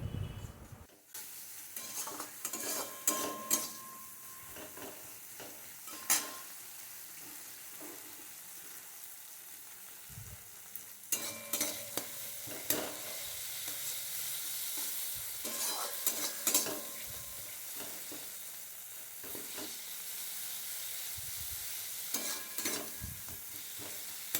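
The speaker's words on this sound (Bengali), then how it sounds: "এখন আর একটু জল দিয়ে আমি মশলাটা আরেকটু নাড়াচাড়া করে নিচ্ছি" Masala for fish curry sizzles and bubbles in a pan after water is added, with bursts of louder frying hiss and irregular spatula scrapes and knocks, broken by a quieter stretch around the middle.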